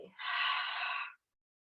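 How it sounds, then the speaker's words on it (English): One deep breath flows out steadily for about a second during a gentle yoga session for low back pain. It is soft, airy and close, with no other sound after it. "And so breathe deeply."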